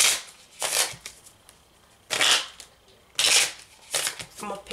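Tarot cards are shuffled in several loud, close bursts of riffling, separated by short pauses, with occasional talk between them.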